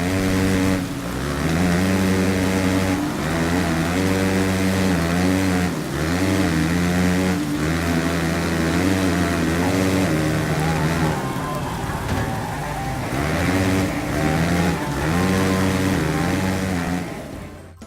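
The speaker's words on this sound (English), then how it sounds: "all you'd hear are the sound of engines" Several revving motocross bike engines in the game MXGP 3 whine and rise in pitch together, with repeated gear-shift drops, bikes competing close by.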